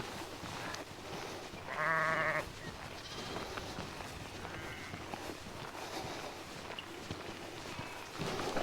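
Sheep on a farm along a countryside walking route near Tisbury, Wiltshire, giving one short bleat that rises clearly above steady outdoor wind and rustle, fairly distant and otherwise low in level.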